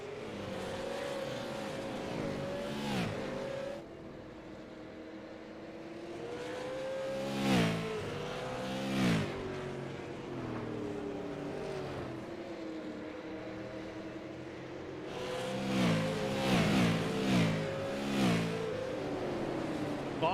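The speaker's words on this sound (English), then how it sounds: "However, Cody Harger was the quickest car on the track that last lap." Race cars on a racetrack roar through shifting, revving engine notes as they accelerate, with louder surges as cars pass close by, heard without any talk.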